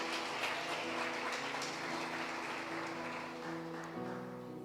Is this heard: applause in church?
yes